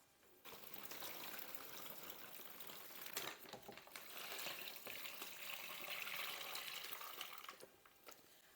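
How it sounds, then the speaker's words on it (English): Water gushes steadily from a pour into a plastic brine bag holding a turkey inside a pot, a continuous close splashing fill that runs for several seconds before tapering off. "keep pouring in water until it covers the bird all the way to the top"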